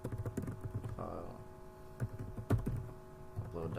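Someone types a command on a computer keyboard, with a quick run of close, crisp key taps, a short pause, then a few more clicks and heavier thumps.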